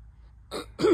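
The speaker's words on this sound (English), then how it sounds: "I'm going to be clearing my throat, like, constantly." A single throat clearing, close and fairly loud, starting with a short rasp and ending in a stronger, voiced hrrm.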